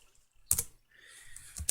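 Keystrokes on a computer keyboard while coding Python in FreeCAD: a quick cluster of clicks, a pause, then a light run of taps ending in another sharp pair, close and fairly quiet with no talk.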